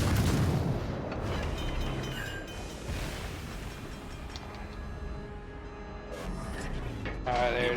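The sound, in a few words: warship guns firing HE shells in World of Warships Legends video game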